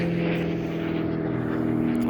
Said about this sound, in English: Just a plane outside.